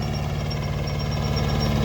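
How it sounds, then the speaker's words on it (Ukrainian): A small Kubota mini tractor's engine runs steadily in a potato field, a continuous low, even chugging throbbing close by and alone, with no talk over it. "Такий маленький міні-трактор Кубота, дає дрозда."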